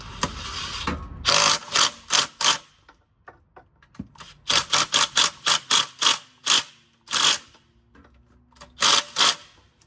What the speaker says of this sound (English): Now we can safely tighten these bolts without a problem.